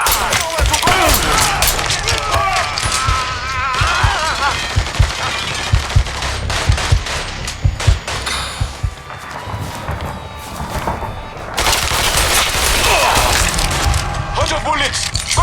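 Dense, continuous gunfire from Mafia 3, with rapid machine-gun bursts and sharp cracks layered with splintering impacts, loud and close throughout, and a shouted voice now and then over the din.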